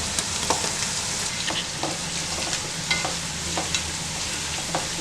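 Whole small onions frying in hot oil for a veg biryani, a steady loud sizzle with repeated stirring scrapes at irregular intervals, no voices.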